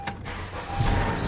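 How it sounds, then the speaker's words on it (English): A 2014 Honda Accord engine cranks and catches, then settles into a steady idle with a low rumble that swells slightly toward the end. "I'm gonna be running the car just a little bit so we can get the oil and trans fluid a little bit warm"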